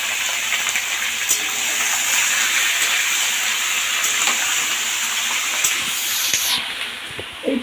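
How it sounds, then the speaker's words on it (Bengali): Lime-marinated chicken laid into a hot pan sets off a loud, steady hissing sizzle that holds throughout, easing off only near the end. "ঠিক এর ওপরেই আমি চিকেনটাকে দিয়ে দেবো।"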